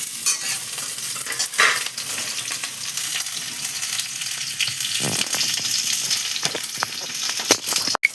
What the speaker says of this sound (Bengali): এবার আমি তোমার এক এক করে সবজিগুলো দিচ্ছি।